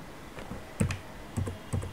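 About four separate presses on a computer keyboard during accounting data entry, soft clicks spaced unevenly, near and fairly quiet with no talk.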